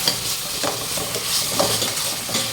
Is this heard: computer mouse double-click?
no